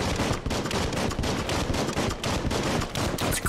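Dense, continuous gunfire in Biomutant, loud rapid shots packed together without pause for the whole stretch, with no talking over it.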